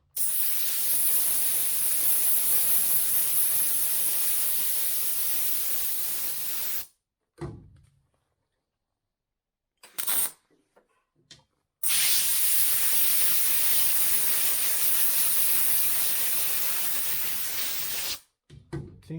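Steady, loud hissing crackle of a welder laying beads on a car body patch panel at 64 amps, in two long bursts of about seven seconds each separated by short pauses and brief ticks.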